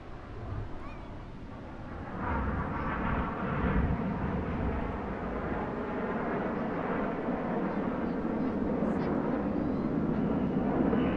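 Display jet at a seaside airshow rolling continuously around two other formation aircraft, a steady loud roar that swells after a couple of seconds and holds broad and rumbling throughout, with wind buffeting mixed in.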